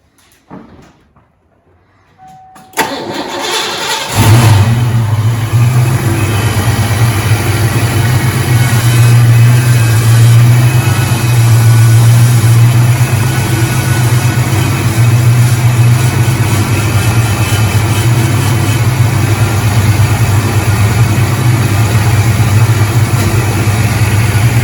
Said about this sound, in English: the current power steering pump sounds like a screaming banshee whenever the car is running